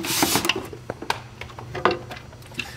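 Screws being removed from the top of an acrylic spa cover, heard as close, irregular light clicks and scraping taps with small plastic knocks.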